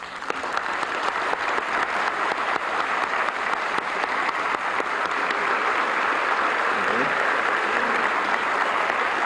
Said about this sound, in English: Now it's time for applause.